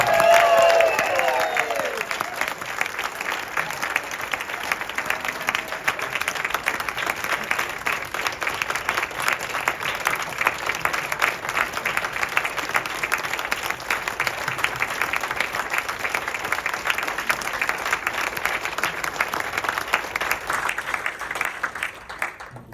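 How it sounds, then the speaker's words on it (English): A big round of applause from an audience at a farewell event, sustained and dense for about twenty seconds with crowd noise and some cheering at the start, then ending abruptly. "one more huge round of applause for Michael Shannon."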